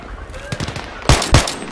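Gunfire in the video game Battlefield 3, a few scattered automatic shots early on, then two loud close bursts near the end.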